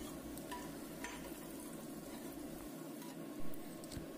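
Garlic, curry leaves and four whole dried chilies fry in hot oil for a lemon kadhi, giving a steady, fairly quiet crackling sizzle with faint stirring, no voices.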